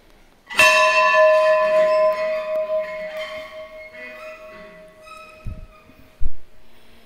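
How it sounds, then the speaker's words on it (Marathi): A single bright strike of a temple bell at Hivara Ashram's artificial island in Buldhana rings out and slowly decays, its metallic tone lingering, followed by a couple of faint knocks. "या ठिकाणी घंटी वाजवायचं आपलं भाग्य लाभलं."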